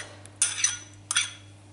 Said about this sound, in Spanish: Ahora le voy a añadir el maíz